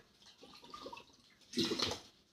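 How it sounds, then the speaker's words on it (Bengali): A plastic water bottle has its cap opened and water is drunk from it. Faint handling rustles are followed by a short, louder burst of sloshing, gulping water close up, without speech. "তারা বোতলটা এইভাবে তুলবেন, ক্যাপটা খুলবেন,"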